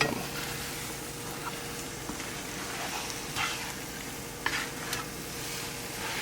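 Scrambled eggs sizzling softly in a hot pan as they are stirred, a steady frying hiss with occasional scraping strokes from the spatula, close up and alone without talk.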